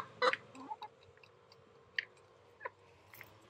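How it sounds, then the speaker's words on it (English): Chickens give a few short clucks and squawks, one loud burst near the start followed by fainter scattered calls, heard close by over a quiet outdoor background. "Okay, bye chickens."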